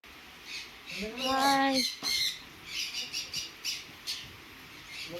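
Shrill bird squawks ring out close by, one long rising call followed by a string of shorter squawks over a busy indoor background.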